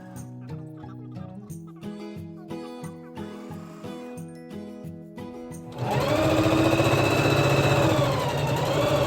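A sewing machine stitches fabric for face masks, running in short stop-start bursts before settling into a long, loud continuous run with the needle whirring steadily at the end.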